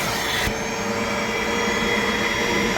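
A wet-extraction vacuum draws shampoo out of a car's interior upholstery, a loud, steady whine and roar close up. Its tone shifts slightly about half a second in as the nozzle moves, then holds constant with no talking.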